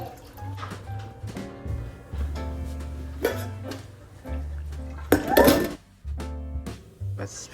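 Dishes and utensils clink and clatter in irregular bursts as food is moved onto a plate while preparing a Jamaican-style Christmas dinner, with a steady low hum underneath and a louder clatter near the end.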